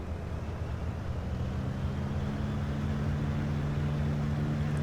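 Propeller engine of a Diamond DA40 light aircraft running up in the Flight Sim World game: a steady, droning hum with a low tonal buzz, constant and close throughout, no voices.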